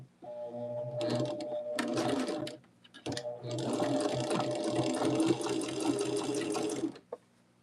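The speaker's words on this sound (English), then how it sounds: "we're going to take the sides and stitch those together on both sides" A sewing machine runs close and clear while quilt block pieces are stitched, with a short burst, a brief pause, then a longer continuous run of rapid whirring stitches before it stops.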